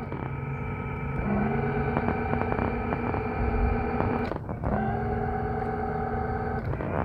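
Small battery-run electric motors, six D cells each, hum steadily as they push a wobbly homemade floating platform across water, a close continuous whine with layered tones that dips briefly near the end and then resumes.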